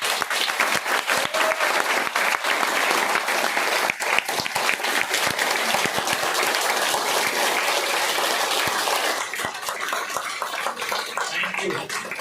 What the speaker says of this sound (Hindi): तो जोरदार ताली हो जाए